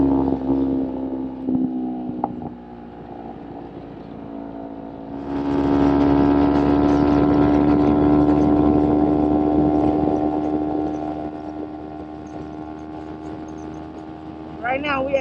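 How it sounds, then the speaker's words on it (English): Kawasaki Ninja 250R motorcycle accelerating on the road, engine drone rising in pitch as it climbs through the gears with strong wind rush, then settling to a steady cruise. "Right now we at 70 miles per hour. This bike ain't going nowhere fast."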